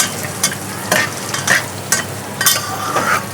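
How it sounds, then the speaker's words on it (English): Chili flakes fry and sizzle in hot oil in a pan, a steady crackling hiss broken by several soft stirring scrapes, close and fairly quiet, with no one talking. "we're going to fry those chili flakes in some oil"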